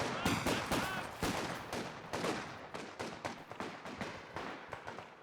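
In the video game Company of Heroes 2, a sniper and infantry trade fire around a building, producing a string of sharp, distinct gunshots and short bursts, fairly close, with no talking.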